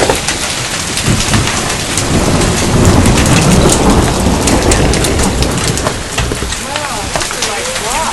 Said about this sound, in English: Look at the storm coming down in Redding, California.